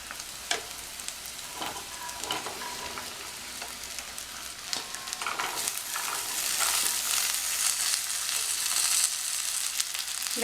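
Beans, carrot, green peas and potato sautéing in a pan, a steady close sizzle with intermittent stirring scrapes that grows slightly louder and denser through the second half.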